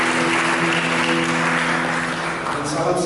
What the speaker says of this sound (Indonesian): Mari kita berikan tepuk tangan yang meriah bagi Yesus.